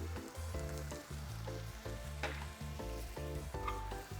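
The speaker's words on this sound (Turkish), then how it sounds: "sirkemi koyuyorum" Vinegar poured into a pot of sizzling sautéed onions while cooking a fruity lamb stew, giving a steady, loud frying sizzle with bursts of crackle throughout and some stirring.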